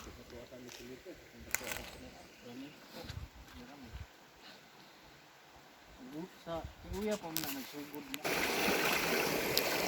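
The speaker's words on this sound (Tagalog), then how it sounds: "Ito po ang ilog ng Bilya Undayon" A shallow river in the Philippines, running low during hot weather, flows with a steady rush that swells louder toward the end, while a person talks over it.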